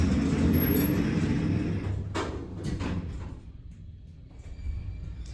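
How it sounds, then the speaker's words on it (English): A loud, rumbling door on a vintage slap-on modded Otis traction elevator at UPMC Horizon in Greenville slides with a few sharp clanks midway, then settles into a quieter, steady cab hum. "The loud door."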